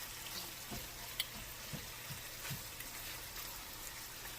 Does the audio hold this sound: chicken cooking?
yes